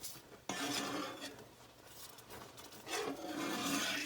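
A spoon mixes homemade cheese sauce with onion powder in a pot, giving soft scraping and rubbing strokes with a louder stirring burst at the start and again near the end, no voices.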